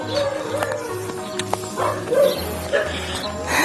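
Several dogs bark and yip repeatedly nearby, overlapping with one another amid background noise and a person talking.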